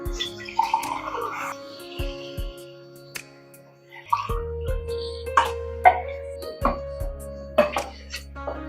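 Water splashing and pouring into a metal pot of rice in several bursts, with clinks of utensils and ringing metal tones in between, close up and fairly quiet.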